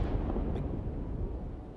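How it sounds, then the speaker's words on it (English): A rocket explosion heard from far off at Boca Chica: a deep, rolling low rumble that swells at once and slowly fades, loud but muffled by distance. "That was the main blast"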